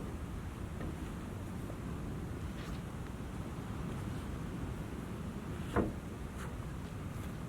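Light wind blowing steadily outdoors near the sea on a hot day, a soft continuous rush with a brief faint knock partway through and no talking.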